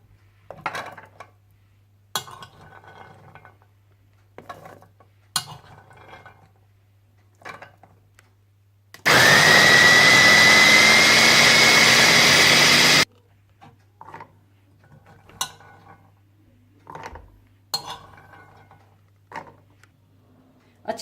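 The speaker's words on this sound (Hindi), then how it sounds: "कुटी काली मिर्चें, सफेद तिल, कुटी लाल मिर्चें और चने डालकर अच्छी तरह से पीस लें।" An electric kitchen grinder blends chickpeas, white sesame seeds, crushed black pepper and crushed red chillies for falafel, roaring loudly and steadily for about four seconds amid sparse clinks and taps of kitchen utensils.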